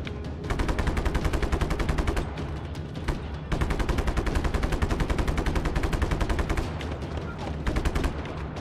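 Gunfire in Just Cause 3, rapid automatic bursts crackling loudly and almost without pause, with a brief gap near the middle, no talk over it.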